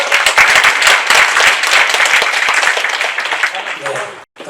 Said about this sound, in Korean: 다시 한번 큰 박수로 감사드립니다